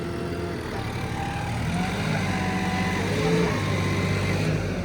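A tractor engine labors to pull a trolley stuck in mud, a continuous low droning rumble that swells slightly as it strains, fairly close and steady throughout.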